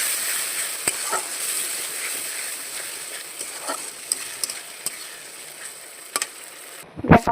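Lotte fish (Bombay duck) with spice paste sizzles steadily in a pan while being stirred, a soft continuous frying hiss broken by faint scraping ticks, with a louder clatter right at the end.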